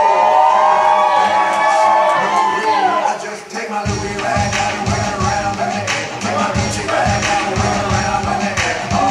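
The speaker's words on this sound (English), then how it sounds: "Let's give them a big round of applause" Guests at a wedding reception cheer and shout loudly, with claps and whoops building into a dense crowd roar that carries on for several seconds.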